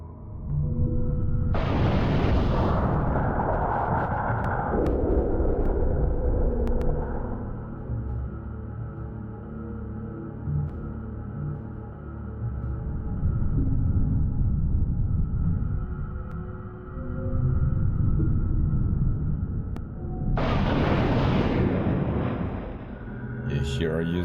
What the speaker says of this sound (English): Here I used my grenade launcher instead of my needle gun because I had it in hands and I have plenty of ammunition anyway